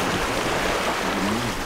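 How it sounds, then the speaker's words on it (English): A sailboat running with following wind and waves off Greece, steady broadband rush of water and wind along the hull, continuous and fairly close with no voices. "The winds are good. They're coming from behind. The waves are coming from behind."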